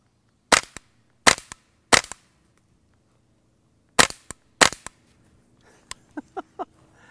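Suppressed subsonic rounds from a Ruger 10/22 rifle fire as sharp, close cracks: three evenly spaced shots, a pause, then two more, followed by a few quieter pops and faint sounds.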